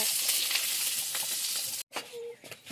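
Cumin seeds fry in a pan for minced meat, giving a steady bright sizzle that cuts out briefly and then returns more softly with a light scrape.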